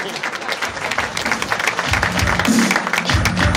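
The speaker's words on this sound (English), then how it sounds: "Big round of applause." A comedy club audience gives loud, dense applause at the close of a stand-up set. The clapping swells and stays strong throughout with scattered cheers.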